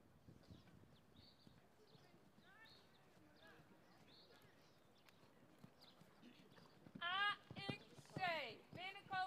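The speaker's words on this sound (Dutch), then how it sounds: "Het volgende paard in de baan is Inke RV" A horse enters a dressage arena at a walk during a competition test, its hoof falls soft and steady beneath an announcer's voice over the loudspeaker, with louder speech toward the end.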